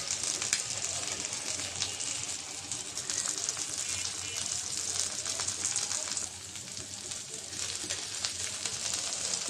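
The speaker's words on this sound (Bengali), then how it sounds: "এই মাছ ভাজতে গেলে অনেক পানি বের হয়, তার চুলা বাড়িয়ে দিয়ে এই মাছ ভাজা লাগে।" Freshly flipped fish fry in oil over a raised flame, releasing lots of water, and give a bright, even crackling hiss throughout with a few louder pops.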